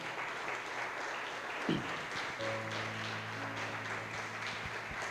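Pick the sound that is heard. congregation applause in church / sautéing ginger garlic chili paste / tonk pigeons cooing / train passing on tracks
congregation applause in church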